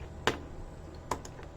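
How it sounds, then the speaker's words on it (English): Two crisp computer keyboard keystrokes for shortcut presses, spaced apart with a couple of faint lighter taps after, close and quiet with no talking. "I'm going to do my keyboard shortcuts"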